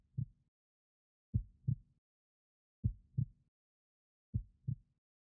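A slow heartbeat thumps in clear lub-dub pairs, four double beats spaced evenly against silence, soft and low.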